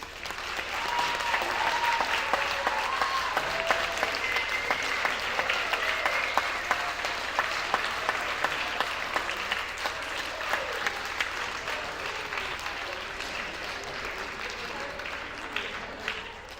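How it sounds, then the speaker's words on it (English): An audience at an end-of-year school show gives a full, sustained round of applause for graduating seniors, a thick and even wash of many hands clapping continuously from start to finish, with faint voices mixed in. "could you please stand so we can clap for you?"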